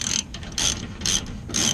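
Ratchet snugging suspension bolts on a Toyota Tundra sway bar setup: four quick, close bursts of rapid clicking separated by brief pauses, loud and alone without talk.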